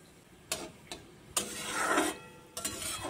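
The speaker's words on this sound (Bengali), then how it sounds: "কালো জিরে ফোড়ন দিয়ে দেব।" Nigella seeds tempering in hot oil in a kadai, giving a faint, quiet background hiss broken by a few short, sharp crackling bursts.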